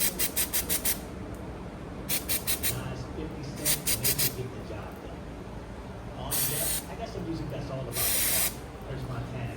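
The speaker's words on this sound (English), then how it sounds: "Let's spray some brake cleaner," Brake cleaner from an aerosol can sprays onto a car suspension part in several sharp hissing bursts, short pulses first, then two longer blasts, close and loud over faint workshop noise.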